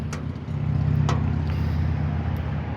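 A 1979 Lincoln Town Car with its 400 engine runs at a steady, close low rumble for a few seconds, with a couple of faint clicks over the idle.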